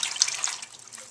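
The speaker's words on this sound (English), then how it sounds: "swish them around in there. Make sure you really get everything loosened off those leaves and get a nice water bath" Salad greens swish around in a water bath, a close, steady splashing and dripping of water that fades slightly toward the end, with no talking.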